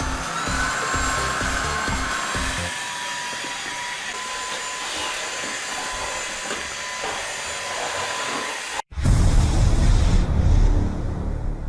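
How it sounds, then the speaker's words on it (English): An Orfeld WB08 cordless vacuum cleaner runs with a steady, loud whine and airy rush throughout, briefly cutting out before resuming with a deeper, rougher suction roar, with no talking. "There's no better way to test out a vacuum cleaner than in a state of renovation."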